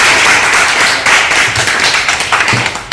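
A small audience claps together, a dense patter of hand claps that stays fairly loud and close throughout, with a few louder individual claps standing out near the end.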